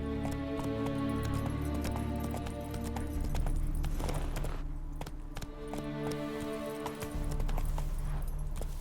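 Horse galloping in The Witcher 3: Wild Hunt on Xbox Series S, rapid rhythmic hoofbeats pounding steadily under a layer of game music, with a brief whinny-like swell partway through.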